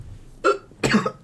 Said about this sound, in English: I just coughed up 2 lungs